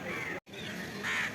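Crows calling outdoors near Chaitya Bhoomi in Mumbai, a steady cawing chorus with a sharp brief dropout midway and a louder burst of calls toward the end.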